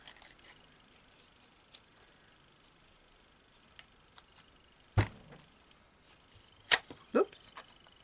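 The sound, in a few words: paper scissors cutting paper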